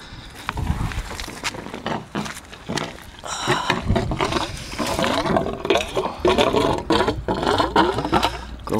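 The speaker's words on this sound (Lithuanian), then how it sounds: "Įsijungsim siurblį." A pump starts up during a car wheel wash, a loud, continuous rough roar with a whirring drone and surging bursts of spray and splashing water, close and sustained throughout.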